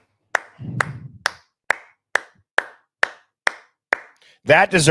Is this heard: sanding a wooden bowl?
no